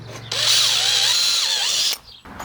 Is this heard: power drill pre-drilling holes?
yes